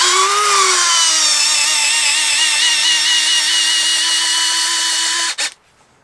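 Small electric motor driven in reverse to back off a nut during an F4U Corsair folding-wing model build: a loud, steady high-pitched whine that holds for about five seconds, then cuts off abruptly.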